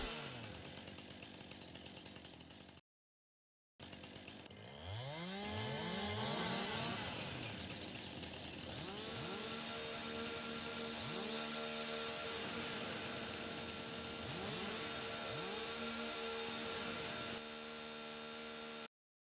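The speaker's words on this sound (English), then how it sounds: "I may as well get the chainsaw out and cut down" A chainsaw cutting down trees in an open field, loud and close, its engine revving up and down in repeated sweeps with a brief break near the start, no talking.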